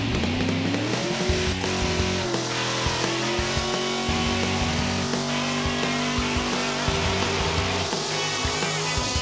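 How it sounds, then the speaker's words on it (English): A drag car with wheelie bars and a rear wing does a burnout, its engine roaring loud and sustained with rising pitch and squealing, screeching tires throughout, close up. "Nice little burnout"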